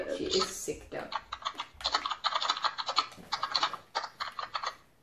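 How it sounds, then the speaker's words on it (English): Rapid, loud clacking of a computer keyboard being typed on, bursts of keystrokes close to the microphone with voices talking over it. "That is the worst keyboard I've ever heard."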